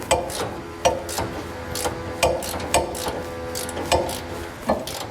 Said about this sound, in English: I'm going to take my ratchet here, get it in place, and we'll remove the bolt